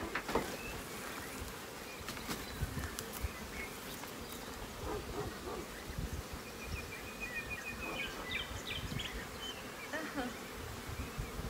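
Honey bees buzz around a beehive in a dense, continuous hum, with individual bees flying close by at times, and faint background noise throughout.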